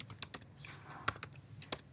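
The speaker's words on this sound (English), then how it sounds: "as I'm typing my program" Fingers type on a computer keyboard while someone writes program code, with quick, irregular clicking keystrokes that are close and fairly crisp, with no talk.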